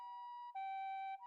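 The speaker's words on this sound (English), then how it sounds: "Oh, that's the ambulance in the game." An ambulance siren in the video game Variable Barricade wails in a two-tone pattern, switching pitch once, clear and steady with nothing else behind it.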